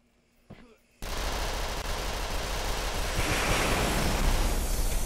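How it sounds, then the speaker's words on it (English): An airstrike in the shooter game Red Crucible 2 sets off a sustained roar of explosions and rumbling blasts that swells over several seconds, preceded by a brief faint click. "What if I call airstrike?"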